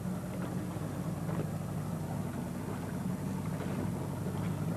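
Low droning boat engine on open water during a fishing outing, a steady rumble with faint wind buffeting the microphone and no one talking.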